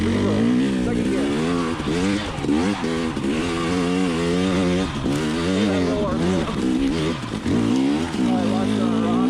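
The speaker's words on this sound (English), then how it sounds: "What's so great about these two-strokes is being able to lug and pick your line and just cruise up hills" KTM 300xc TPI two-stroke enduro motorcycle with a Pro Circuit spark arrester muffler lugging in second gear up a rocky hill, engine note rising and falling steadily and close, with a rider's voice talking over it.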